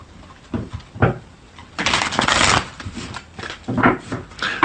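A deck of tarot cards being shuffled by hand, with intermittent riffling and sliding bursts, one longer flurry in the middle, close and moderately loud with no talking.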